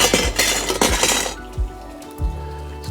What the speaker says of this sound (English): It's probably a loud clinking sound that you heard.